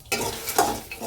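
Dried red chillies being stirred in a hot pan for an idli podi spice mix, a short scraping stir with light sizzling, close and fairly quiet, with no talk.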